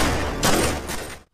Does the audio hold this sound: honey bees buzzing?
no